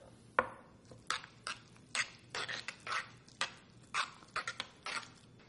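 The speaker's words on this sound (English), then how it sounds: "And then I'm going to give it a stir." Salted guacamole being stirred in a bowl, giving a series of close, irregular scraping and knocking strokes that repeat at a steady pace, with no talking.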